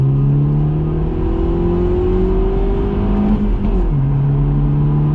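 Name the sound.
BMW 114i accelerating hard during a timed acceleration run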